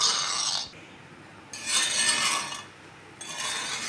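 A spoon scraping and stirring coconut oil in a pan as it melts, heard as three loud raspy bursts separated by brief quieter pauses, close by with no voices.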